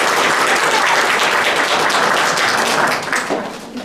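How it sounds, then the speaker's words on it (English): An audience at a Halloween program by the Encore Players claps for the presenters in dense, loud, steady applause that fades toward the end. "Let's give them all a round of applause."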